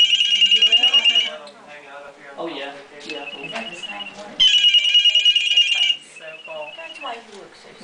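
A blue jay imitates a cell phone ringtone, giving two loud bursts of rapid, steady trilling that closely copy an electronic ring, with calmer chirps between them and people talking in the background.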